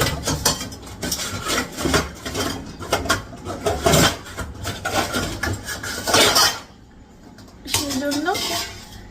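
A pressure cooker being scrubbed clean in a home kitchen, with rapid rhythmic scraping and clattering metal on metal, loud bursts broken by a short pause, then a final stretch of scrubbing; faint voices may sit underneath.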